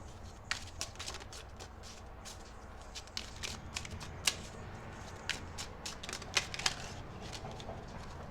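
Tarot cards shuffled by hand during a Leo Moon reading, giving faint, quiet riffling with scattered soft snaps and clicks over a low steady background hum, no speech.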